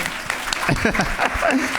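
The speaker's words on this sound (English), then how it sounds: "round of applause, man. You can clap" Audience clapping at a panel event on inclusion and diversity, a steady round of applause of moderate loudness with people talking over it.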